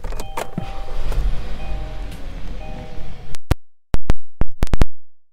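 Power windows of a 2017 Kia Optima LX glide with a steady motor whir inside the car, then several short, loud bursts as the windows are run up and down in quick succession, with no talking.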